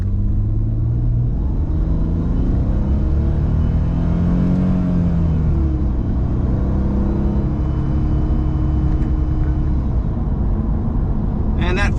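A worn, wrecked 270k-mile Mercedes AMG C32 with a supercharged V6 pulls in first gear, its loud, close engine drone rising steadily in pitch as it accelerates under throttle, with a faint whine above.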